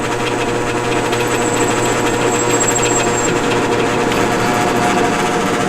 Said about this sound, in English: So let's see how this stainless drills.